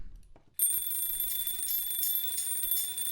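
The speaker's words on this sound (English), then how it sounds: "for the original song they used an alarm clock to mark the ending of the first crescendo into the second part of the song" An alarm clock bell starts abruptly after a quiet moment and rings continuously and loudly, a bright steady metallic jangle recreated for a song.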